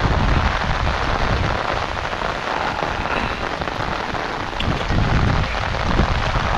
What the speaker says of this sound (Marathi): त्यामुळे पाऊस जाऊची वाट बघतोय मी आता